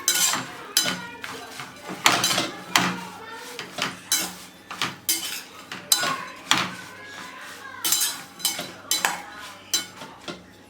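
A spoon clinks and scrapes against a bowl as green chillies are stirred into a cooled raita mixture, a steady rhythm of sharp metallic taps and knocks close by.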